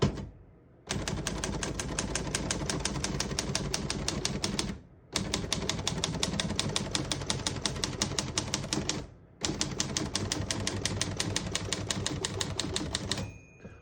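A 1950 Olivetti Lettera 22 manual portable typewriter types in rapid, steady bursts of sharp clacks, broken by short pauses between runs, with no talking.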